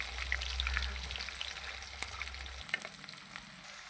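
Garlic and curry leaves fry in a pan for a citron pickle curry: a soft, steady sizzle with scattered crackles and a couple of sharper stirring clicks near the middle, fairly quiet, with no speech.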